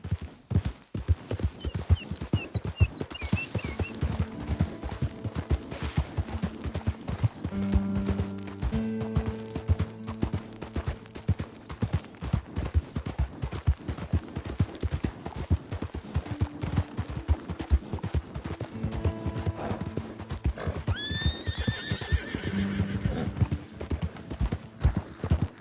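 Horse hooves pound in a fast, continuous gallop in Red Dead Redemption 2, loud and close, with a faint whinny partway through and a few other game sounds mixed in.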